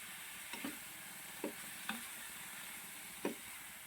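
Ginger and bay leaves sautéing in a pan for chicken curry, a soft steady sizzle with four brief stirring scrapes spaced irregularly, quiet and close, no voices.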